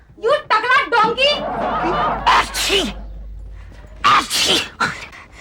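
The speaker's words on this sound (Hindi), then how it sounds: "शादी के बाद भी तुम इसी तरह छींकते रहोगे" A man sneezes repeatedly in a comedy sketch, several sharp bursts in quick succession with breathy gasps between them. A second loud pair of sneezes follows near the end, close and loud over a faint background hum.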